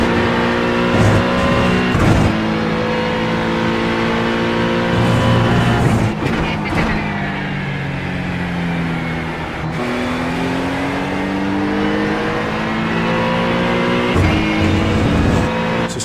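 A GT3 race car at Mugello in the iRacing sim screams through the gears, with loud sustained engine tones rising under acceleration and dropping sharply at each shift or braking point, then climbing again across the lap with no talk.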